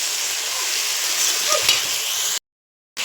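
Fish and potato pieces fry together in oil, giving a steady close sizzle that runs continuously before a brief silent break and then resumes.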